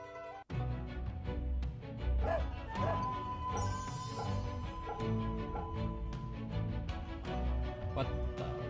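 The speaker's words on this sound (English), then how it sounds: "Did you hear that? The dog barking?" A dog barks repeatedly in a video game scene from the Fate/Grand Order and Samurai Remnant crossover story, fairly loud yips and woofs over steady game music and effects.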